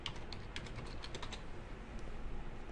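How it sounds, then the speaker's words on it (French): Typing on a computer keyboard in a LibreOffice word processor, a quick run of soft key clicks in the first second and a half, then sparser taps, close and quiet. "J'écris avec mon clavier, comme ça n'a pas changé."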